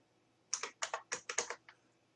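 Quick bursts of typing on a computer keyboard while entering lute tablature notes, about seven close, crisp key clicks in an irregular run, isolated in a quiet room.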